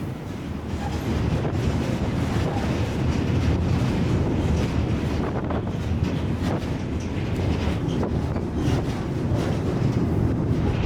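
Loud continuous rumble and rattle of a moving freight train ridden aboard in Turkey, heavy clattering and wind buffeting the microphone throughout, no voices.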